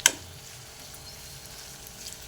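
Potatoes cooking with turmeric in a pan for poha upma give a soft, faint sizzle throughout, with a brief knock at the start.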